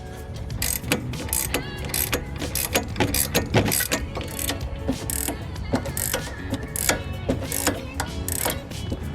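Wrench tightening a nut on a Whiteline end link during a Bilstein B14/B16 coilover install on a Mazdaspeed 3, giving steady loud ratcheting clicks in a fast continuous rhythm over mechanical clatter, with no talking.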